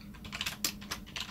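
Rapid keystrokes on a computer keyboard while Python code is entered, a close, steady run of clicks with a few louder key hits over a low background hum, no voices.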